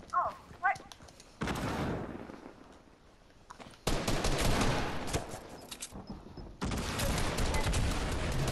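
Rapid bursts of automatic gunfire in Fortnite, loud and close, coming in several long volleys separated by short pauses, with a few sharp single shots at the start and faint voices underneath.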